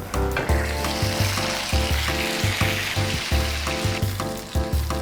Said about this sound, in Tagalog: pagkatapos natin ma-steam yung ating mga embutido rolls, pwede na natin siyang iprito